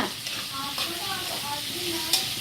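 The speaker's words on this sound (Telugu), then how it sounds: "కర్రీ ప్రిపేర్ చేస్తుంది, కర్రీ మాడిపోయింది." Curry cooks in a pan with a soft, continuous sizzle and some stirring, while voices talk faintly over the cooking.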